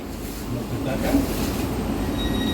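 A Southeastern Siemens train rumbles at London Bridge station in a steady, close, even roar with faint rail hiss, while an onboard announcement voice speaks over it.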